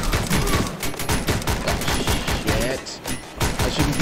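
Rapid bursts of gunfire in a bullet train shooter game, dense overlapping shots crackling without pause, loud and close throughout.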